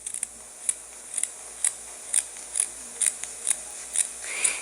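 Scissors snipping through fabric while trimming the edge of a buttonhole, about nine crisp, evenly spaced cuts close up in a quiet room.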